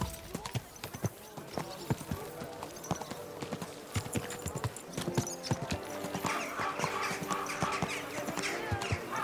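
Rapid, steady clip-clop of horse hooves on a hard surface in the video game Kingdom Come: Deliverance 2, close and rhythmic, with a busy background and a voice briefly heard.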